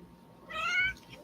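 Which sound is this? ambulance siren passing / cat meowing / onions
cat meowing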